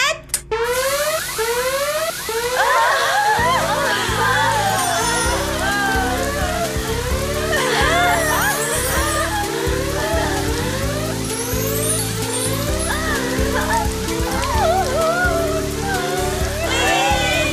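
Cartoon water rinses hair lotion out of several characters' hair, a loud steady splashing rush like rain that runs the whole time beneath bright, busy music with rising whistling sweeps.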